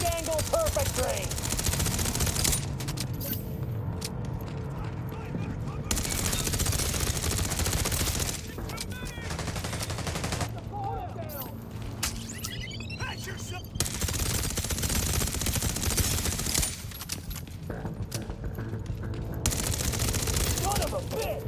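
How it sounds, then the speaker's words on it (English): Suppressive machine gun fire in the Division Resurgence video game comes in long, loud, sustained bursts separated by brief lulls, close and relentless, with game voices calling out between volleys. "Laying down suppressive fire."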